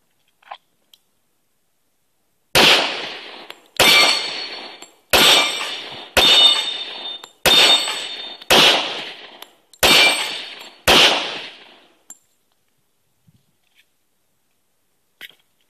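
Eight loud gunshots from a Smith & Wesson 1911 pistol (TA Series E), fired at a steady pace of roughly one every 1.2 seconds, each sharp crack trailing off in a short ringing echo, then quiet after the magazine runs dry.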